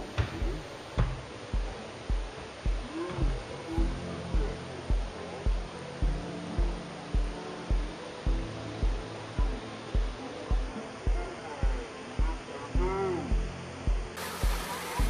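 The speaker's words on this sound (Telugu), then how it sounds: "చాలా అంటే చాలా బాగుంది వాటర్ ఫాల్." Vennela waterfall near Manuguru produces a continuous rushing roar, heard fairly close, with regular low thuds pulsing beneath the water noise.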